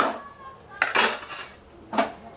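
A utensil stirring green mango chutney in a pan: close metallic scrapes and clinks in a few separate strokes over a quiet background, no talking.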